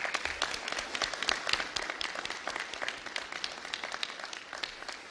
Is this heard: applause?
yes